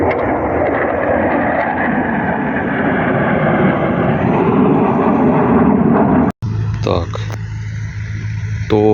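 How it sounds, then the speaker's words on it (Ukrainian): Airplanes flying overhead above a farm field being prepared for sowing in late March, a loud, steady broadband engine roar that cuts off abruptly, with talk in the background. "Ось, дивіться, які літаки летять."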